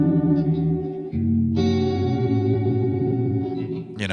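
Granular time-stretch warp mode in Ableton applied to a tonal texture, sustained buzzy chords with smeared, chorus-like grainy shimmer that shift pitch abruptly a few times, loud and alone.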